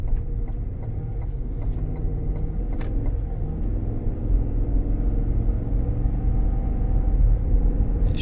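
Cabin of a 2022 Cadillac Escalade Sport Platinum on the road, a low, steady rumble of tyres and engine with a few faint clicks and knocks, quiet and even throughout.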